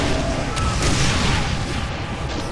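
Gunfire in the video game Brutal Doom, loud booming shots in quick succession with heavy low rumble, under ongoing game noise.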